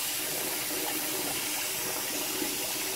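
Tap water pours steadily into a bathtub, a loud continuous gushing rush that fills the room without pause and with no voices over it.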